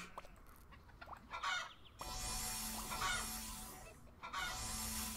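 Chickens clucking in the School of Dragons video game, a few close, clear clucks and squawks, some in short bursts, over a quiet game backdrop.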